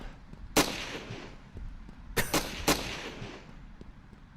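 Scattered gunshots from AI soldiers in the video game Ravenfield, one crack near the start and then a quick cluster of three, sharp and fairly close over a low ambient rumble.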